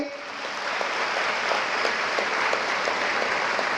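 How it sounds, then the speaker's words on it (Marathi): Steady, dense applause from a live audience during a humorous Marathi public speech, continuous and fairly close throughout, with a faint speaking voice buried beneath the clapping. "एकदा टाळ्या होत्या आपल्या मायबापानं तुमच्यासाठी पाहिलेल्या स्वप्नासाठी"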